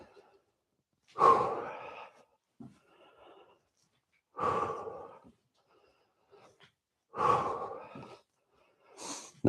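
Heavy, rhythmic breathing during a babywearing glute workout circuit, three or four loud close exhalations spaced a few seconds apart with silence between them.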